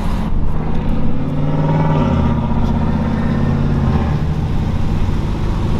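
A pickup truck drives along with a steady, loud engine note from inside the cab, the motor rumbling and building as it accelerates, with no talk over it.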